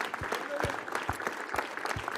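A church congregation gives a loud round of applause to the Lord, a dense, continuous clapping from many hands with rhythmic low thumps pulsing about twice a second beneath it.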